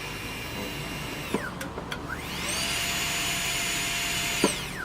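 A Saeyang Marathon N7 dental micromotor, foot pedal controlled, whines as it ramps down, briefly spins back up and then climbs to a steady high-pitched speed before dropping again, close and fairly quiet.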